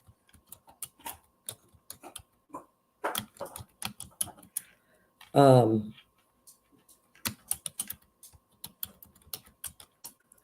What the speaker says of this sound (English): I'm typing his handle in.